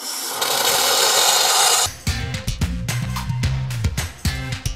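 A Vapo-Hydro steam cleaner hissing loudly and steadily on a dirty wheel rim, then stopping sharply, followed by close scrubbing and rubbing noises.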